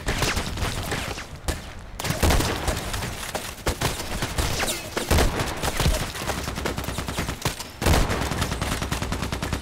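Rapid gunfire in a Call of Duty match, M40A6 sniper rifle and EBR marksman rifle in play: loud sharp shots and bursts in quick succession with brief gaps, no talking.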